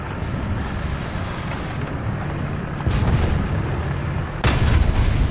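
Gunfire during a War Thunder tank battle featuring a German TAM, with two heavy booming shots about a second and a half apart over a loud, constant rumble of engine and battlefield noise.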